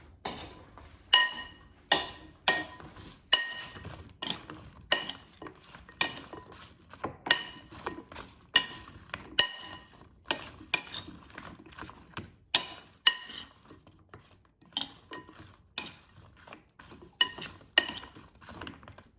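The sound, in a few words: tossing zucchini slices with oil and seasonings in a bowl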